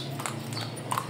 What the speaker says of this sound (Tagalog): Si Petrang Kabayo.